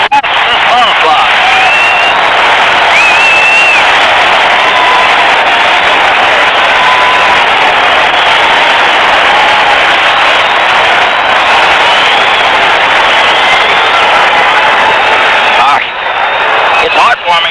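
Basketball arena crowd roaring for the Boston ball club, a dense, loud, continuous wall of cheering broadcast-style, holding steady throughout with a brief dip near the end.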